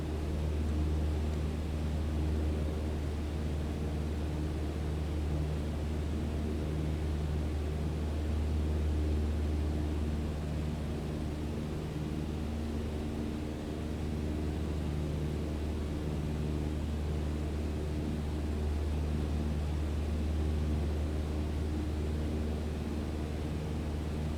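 Cruise flight in Microsoft Flight Simulator brings a steady, unbroken drone from a Cessna 152 engine, a close constant propeller hum with no voices.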